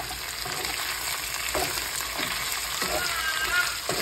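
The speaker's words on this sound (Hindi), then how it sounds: "थोड़ा फ्राई कर लेंगे" Onion and capsicum cubes, with ginger and green chillies, frying in a kadai for kadai paneer, a steady close hiss and crackle throughout with occasional soft stirring scrapes.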